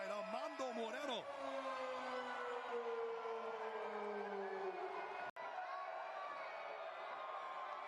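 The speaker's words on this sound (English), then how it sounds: "This near-capacity crowd at Southwest University Park salutes the home side." A near-capacity stadium crowd at Southwest University Park roars after a home-side goal, a sustained cheer with whoops and rising voices early on, under excited commentary.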